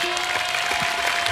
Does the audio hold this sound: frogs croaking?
no